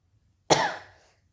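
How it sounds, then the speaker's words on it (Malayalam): A single sharp cough, close and fairly loud, tailing off quickly into silence. "എനിക്ക് ഇടയ്ക്കിടയ്ക്ക് ചുമ വരുന്നുണ്ട്"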